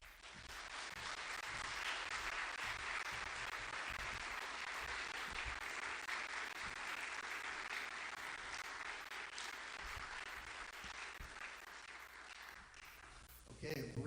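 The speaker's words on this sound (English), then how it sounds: "give them a round of applause as we bring and introduce the candidates for mayor in the city of Tupelo" An audience at a live Tupelo mayoral debate gives the candidates a long, steady round of applause, many hands clapping continuously before fading near the end.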